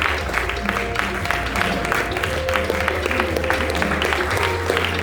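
An audience at a conference keynote keeps up sustained applause, a thick wash of many hands clapping steadily with some crowd murmur underneath, moderately loud and continuous throughout.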